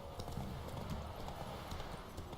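Horse hooves clip-clopping in The Witcher 3, a steady run of close, muffled hoofbeats over low ambient game sound with no talk.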